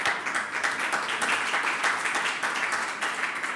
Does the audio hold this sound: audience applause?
yes